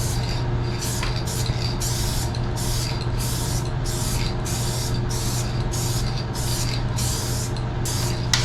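A spray gun hisses out clear coat over an automotive rust repair in a series of about a dozen regular bursts, each roughly half a second long, loud and close over a steady low hum.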